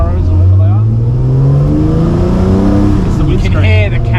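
Porsche 911 IROC flat-six engine revving loudly up and down on the street, a rough cammy snarl that rises and falls in pitch, with people talking over it inside the car.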